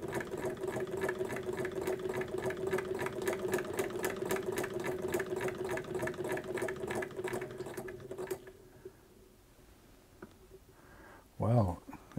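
A serviced 1871 Naumann hand-crank sewing machine stitches with a steady, rapid mechanical clatter for about eight seconds. It then stops, leaving quiet handling noises and a brief louder knock near the end.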